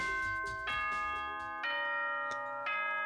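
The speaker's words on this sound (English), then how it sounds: "Ding dong, ding dong." Repeated ding-dong bell chimes in a video game announce a trial, sounding as three or four clear, ringing tones with lingering harmonics, struck at roughly one-second intervals, with no voices over them.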